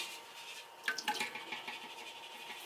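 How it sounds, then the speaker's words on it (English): Duck drippings poured off from a pan into a bowl make a faint, quiet trickle and splash of liquid, with a short cluster of louder splashy pours near the middle, then low liquid noise, no talking. "So what I'm doing is pouring these off into the bowl"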